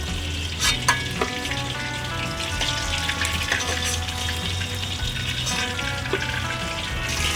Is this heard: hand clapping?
no